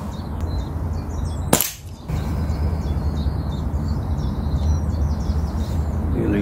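A single sharp rifle shot fired at a target at about ten yards with a mil-dot scope on an outdoor range, loud and close, followed by steady background noise and chirping birds.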